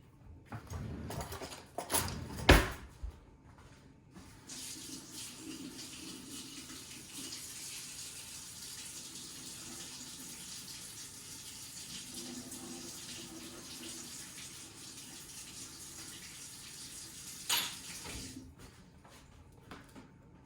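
Kitchen tap running water while making cassava flour tortilla dough, a faint steady hiss of flowing water with a few louder knocks and clatters near the start and one more later.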